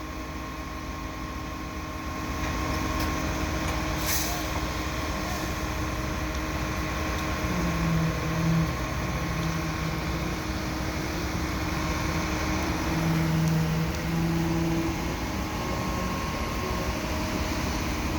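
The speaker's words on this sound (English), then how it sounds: "Although at the moment they're repositioning the boom." At a station construction site, a concrete pumper truck repositions its boom: a constant engine and hydraulic drone runs throughout, with a few brief whining tones rising over it midway, and no voices.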